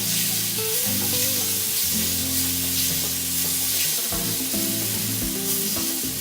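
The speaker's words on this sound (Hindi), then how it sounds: "इसे अच्छे से भून लें। फिर आप इसमें फ्राइड अनियंस डालें" Onions and masala sizzle and fry in a pan for a restaurant-style chicken handi, with steady loud frying hiss and occasional stirring scrapes throughout, no voices.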